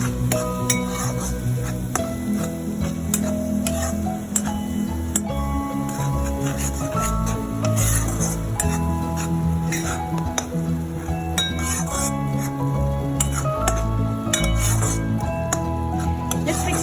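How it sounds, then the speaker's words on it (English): A prawn coconut-milk curry masala with dry spices is stirred in a pan, giving continuous rhythmic clinks and scrapes of a utensil against metal, close and fairly loud, with no talking. "And now let's mix it up."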